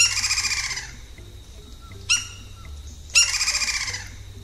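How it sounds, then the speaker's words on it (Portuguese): Red-crested woodpecker, the Brazilian pica-pau de topete vermelho, giving harsh, bright calls: a long rattling series, a short sharp note, then another extended rattling burst, fairly close over a low background rumble. "uma das espécies mais comuns do Brasil é o pica-pau de topete vermelho"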